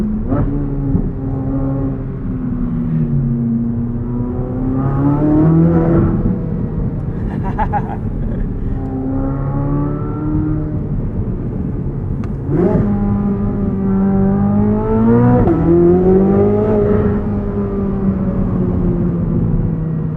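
A 2023 Chevrolet Corvette Z06 with a naturally aspirated engine, heard from inside while driving: loud, close revs climb and drop through several gear changes.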